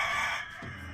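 A rooster crows in a loud, sustained call that fades toward the end, set in a haunted-attraction advertisement themed on mutant chickens.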